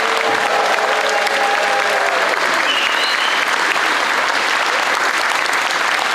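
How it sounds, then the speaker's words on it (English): An audience at a school kindergarten concert claps loudly and steadily, with a dense continuous round of applause. "can we give our kindergartners one huge round of applause?"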